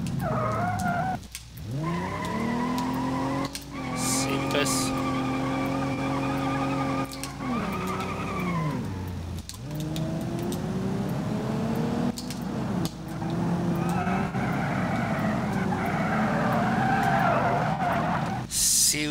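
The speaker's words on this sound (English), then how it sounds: "See, we spun out." A four-wheel-drive vehicle in BeamNG.drive spinning out, with long tire squeals and skidding over steady engine noise, loud and close, broken by brief gaps.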